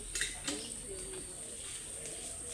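Pigeons coo softly inside a netted enclosure, with faint bird chirps and a few brief knocks over a low background hiss; the cooing is quiet and somewhat distant.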